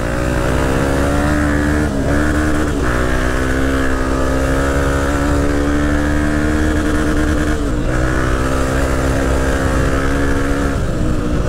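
A crowd of Honda CRF dirt bikes on a muddy trail drones and revs continuously, several engines layered in a loud, buzzing roar with brief dips in pitch as throttles change, close and without a break.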